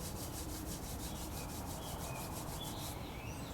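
Hands rub briskly over the body during a seniors' gym exercise, a faint, steady swishing of friction close by with a quick repeating rhythm, alone without talk.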